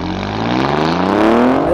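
A 2020 Alfa Romeo Giulia Quadrifoglio pulls hard after a launch, its engine note climbing steadily in pitch as the car accelerates, loud and close throughout.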